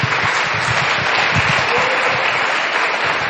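A church congregation applauds in praise, loud, dense clapping that fills the room continuously from start to finish with no one speaking.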